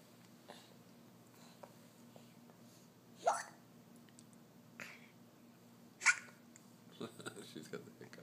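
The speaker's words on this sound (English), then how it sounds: "She's got the hiccups now." A baby hiccups close by, with a few sharp, separate hiccups spaced several seconds apart over a quiet room background and faint sounds from an adult.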